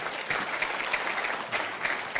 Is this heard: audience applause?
yes